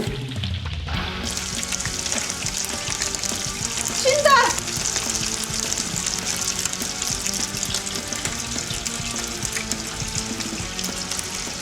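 Shrimp and garlic frying in oil for gambas give a loud, continuous, close-up sizzle that holds steady throughout, with a brief stirring flurry partway through.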